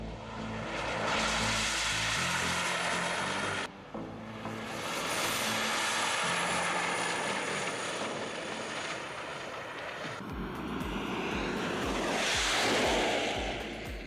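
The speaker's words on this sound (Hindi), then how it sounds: "केवल इसके दहाड़ते हुए डबल जेट को एक्शन में आते देखकर ऐसा लगता है कि ये कार दमदार है।" Toyota MR2 converted into a jet car fitted with two helicopter turbine engines, running on a track: a loud, continuous turbine roar and whine that shifts in pitch, dips briefly and then swells again near the end.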